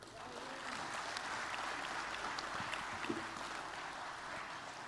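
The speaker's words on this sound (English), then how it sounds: "I could hear the thumping claps from the audience, from the Mauritius" Sustained audience applause in a hall after a speech at an event on India's soft power, a dense, even wash of many hands clapping at moderate distance, steady throughout.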